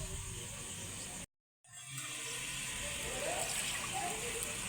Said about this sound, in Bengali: ভালো করে নেড়ে নিয়ে অল্প পরিমাণে জল দিয়ে দেব